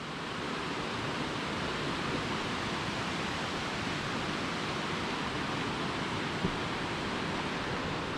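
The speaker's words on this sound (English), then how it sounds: "If you see the bottom, there's a small waterfall at the bottom." A small waterfall and river flowing at the bottom of Tallulah Gorge, heard from the rim as a steady, broad rushing hiss that stays even and continuous throughout, with no voices.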